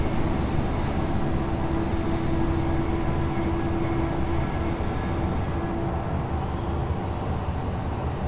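A BR218 diesel locomotive hauls a train along the Allgäubahn, its engine droning steadily at close range with a sustained tonal hum and rolling rail noise, continuous and loud throughout with no talk.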